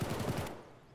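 Rapid automatic gunfire from the video game Escape From Tarkov rattles in a dense burst for about half a second, then fades into a softer distant tail.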